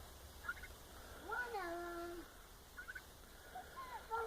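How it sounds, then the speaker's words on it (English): Poultry calls rise and fall in short bursts, a few warbling clucks scattered over quiet background noise, fairly faint with no speech. "These chickens seem to like their new home so far."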